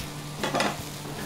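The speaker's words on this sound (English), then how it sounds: "I'm going to start caramelizing our onions because those take the longest" Onions starting to caramelize on a grill for an Aussie-style burger give a brief burst of sizzle and stirring, rising in the middle of the short moment and then settling back to a low hiss.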